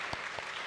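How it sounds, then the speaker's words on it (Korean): Congregation applause during a Korean Sunday church service, a short patter of clapping with a couple of sharper claps or thumps standing out, brief and moderately close. "우리 박수로 환영할까요?"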